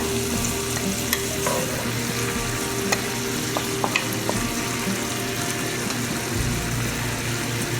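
Onions sizzle and fry loudly in a pan over the cooked chermoula king fish, a steady close crackle with a few sharp ticks of stirring and no speech.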